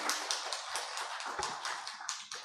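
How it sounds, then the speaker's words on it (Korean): Audience at a health lecture applauding with steady, dense clapping that runs throughout, fairly close and even in loudness, with no talk over it. "박수!"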